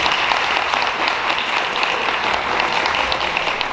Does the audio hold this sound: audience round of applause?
yes